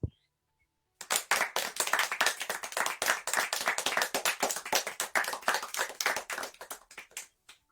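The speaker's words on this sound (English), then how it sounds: "let's give Dr. Gita a resounding virtual applause" After a second of silence, a small group claps for a speaker at an education conference, fairly close and quite loud, the individual claps distinct and thinning out toward the end.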